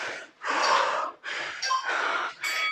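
Someone breathes out forcefully during a home thigh-toning workout done without equipment, giving several strong, close breaths in a steady rhythm.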